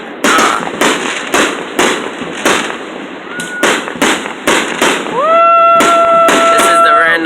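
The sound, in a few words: Independence Day fireworks exploding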